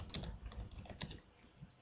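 Subtitle text being typed on a computer keyboard, a short burst of quick, light keystrokes, close but faint, with no speech.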